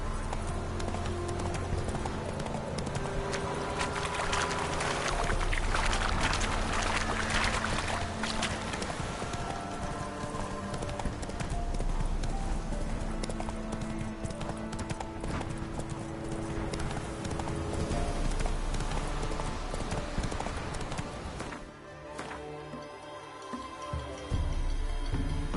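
Roach, Geralt's horse in The Witcher 3: Wild Hunt, gallops in a rapid, steady clip-clop of hooves that runs loud for most of the time, then slows and briefly drops away near the end.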